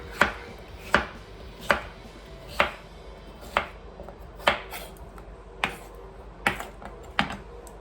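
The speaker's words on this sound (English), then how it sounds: "And so I'm just going to keep dicing and slicing these potatoes" A knife dices and slices russet and baby potatoes on a cutting board, about ten crisp, evenly spaced chops close up against a quiet background.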